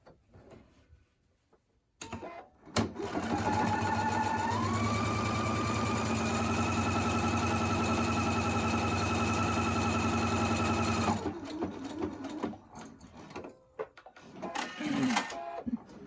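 A sewing machine stitches a fabric mask liner, starting after a brief quiet moment with a clunk, then a steady close mechanical whir with rising pitch that runs about nine seconds before stopping, followed by handling noises.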